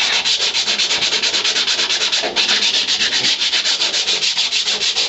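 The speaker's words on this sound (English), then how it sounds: "Just sanding all that." Steady, rapid abrasive scraping of sanding rusty floorpan metal on a 1962 Ford Falcon, loud and close, with a continuous rhythmic rasp and a brief pause midway.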